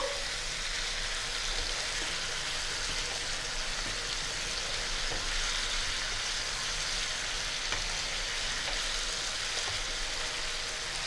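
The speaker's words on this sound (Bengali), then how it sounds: "সবজি যতক্ষণ না জল শুকিয়ে যাচ্ছে নাড়তে থাকবো।" Vegetables for a Bengali rui fish curry hiss and sputter in a pan as their water cooks off, a dense, even sizzle that runs without a break, fairly close, with no talking.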